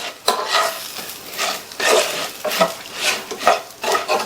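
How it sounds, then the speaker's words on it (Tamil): Spatula stirring a raw banana masala fry in a pan: close, continuous scraping and clinking strokes in an uneven rhythm over a faint sizzle. "சேர்த்துட்டு நல்லா மிக்ஸ் பண்ணி விட்டுருங்க."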